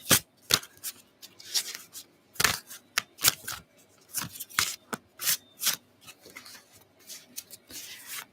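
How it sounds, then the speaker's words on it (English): Rapid, crisp shuffling of three tarot card decks at once, papery riffles and slaps in quick irregular bursts, close by with no voices. "Keep on shuffling 3 decks at the same time."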